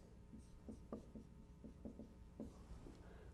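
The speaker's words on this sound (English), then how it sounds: "let me write this down." Chalk or marker writing on a board during a mathematics lecture, heard as short, close taps and strokes in an uneven rhythm, fairly quiet, with no talk.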